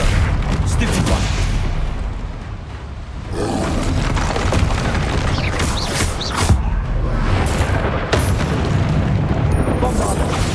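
Booming spell blasts from Bombarda in Hogwarts Legacy, heavy low thuds and crackling impacts repeating through dense, loud game combat noise with other spell effects layered in.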